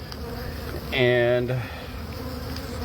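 Bees buzz during removal of a hive from house eaves, a brief louder drone swelling for about half a second over steady outdoor background hum.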